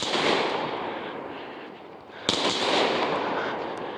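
Fourth of July fireworks burst nearby in a sustained crackling roar, with one sharp loud bang cutting through midway before the dense crackle resumes.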